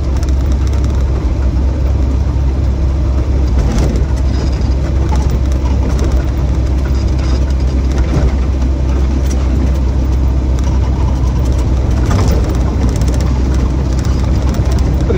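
A 1965 Triumph Herald 1200 convertible engine runs on the road, giving a steady, loud low drone with continuous rumble and occasional rattles throughout.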